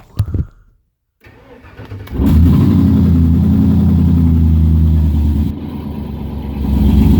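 A 1954 Chevrolet Bel Air started by push button: a short cranking burst, then the engine catches into a loud, steady idle that dips slightly and rises again, close up with no talking.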